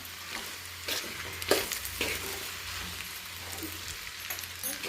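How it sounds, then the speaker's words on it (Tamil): Veg noodles with tomato and masala being stirred in a pan, giving a continuous close sizzle with intermittent scraping and tossing of the stirring spoon, alone without speech. "எல்லாத்தையும் கிளறி விட்டுக்கலாம் ஒன்றோட ஒன்று."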